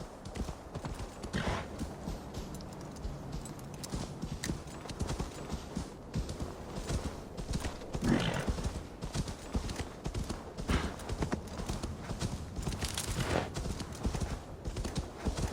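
Horse hooves clip-clop steadily at a walking-to-trotting rhythm in the Assassin's Creed Valhalla video game, close and continuous for the whole stretch, with a rough outdoor ambience underneath and no talking.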